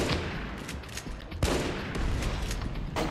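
Rapid video-game gunfire rattles in close, loud bursts, with sharper single shots punching through the steady stream of automatic fire and no voices present.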